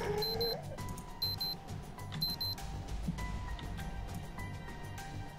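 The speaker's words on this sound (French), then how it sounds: "C'est très très moche la petite alarme." Small electronic alarm beeping in the zombie survival game Project Zomboid, repeated short high-pitched bursts in a steady rhythm over a dense background of game noise and music.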